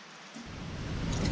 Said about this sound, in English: The night that Bonnie chose to give birth is the first real Midwest storm that I've seen out here. Incredible wind and lightning.